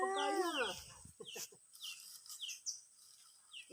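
Chickens on a farm, heard near and fairly loud: a rooster-like call opens the moment, followed by scattered short clucks and chirps coming alone in an uneven rhythm.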